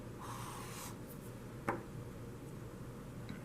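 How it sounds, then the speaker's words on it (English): A pen scratches across paper while working a math problem, soft continuous strokes with one brief louder scrape midway, quiet and close. "let's write down like this"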